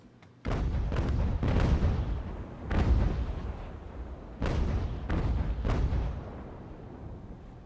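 Ship cannons firing in the naval battle game Ultimate Admiral: Age of Sail, a series of heavy booming broadside shots spaced unevenly over several seconds, each with a long rumbling tail, with no talking.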